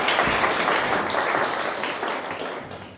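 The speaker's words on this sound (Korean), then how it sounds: "박수로 환영할까요?" A church congregation at a workers' worship service applauding to welcome the pastor, a dense wash of clapping from many hands that holds steady and then begins to fade toward the end.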